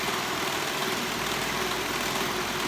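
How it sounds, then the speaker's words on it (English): Steady engine rumble of construction machinery working outdoors, a continuous idling drone with no breaks, fairly loud and unbroken throughout. "Can you hear all that? Like all the construction going on"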